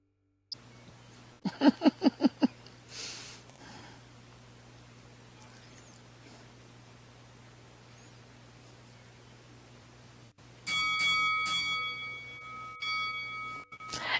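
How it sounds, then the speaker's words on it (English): A wrestling ring bell in the game Second Life, a rapid burst of bright clanging strikes near the start, then a long quiet stretch before a sustained ringing tone returns near the end. "And there is the bell."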